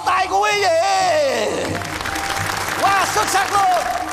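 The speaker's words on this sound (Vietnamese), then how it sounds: "Một tràng pháo tay của quý vị." Audience applause following a comedy magic trick at a Vietnamese comedy stage show, clapping under loud overlapping voices and shouts at the start, then crowd noise with cheering voices rising again toward the end.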